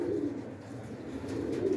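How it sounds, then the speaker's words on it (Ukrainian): Two domestic pigeons in a loft give a low, steady cooing that murmurs continuously at close range, with no talk over it. "два голуба"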